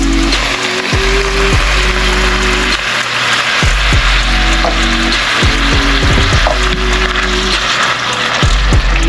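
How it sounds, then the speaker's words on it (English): Loud sizzling and scraping in a pan as a can of tomato sauce goes into browned sloppy joe meat, heard close up with clanks and a low steady hum running underneath, no voices. "I'm going to go ahead and add my can of tomato sauce"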